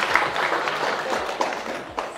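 An audience at an inspirational talk breaks into applause, a broad wash of clapping from a crowd that holds steady for a couple of seconds, with a voice mixed in.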